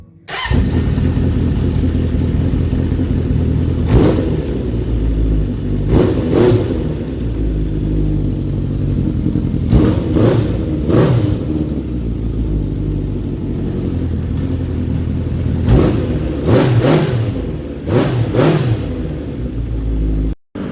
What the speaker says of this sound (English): So now the bike is running on 4 cylinders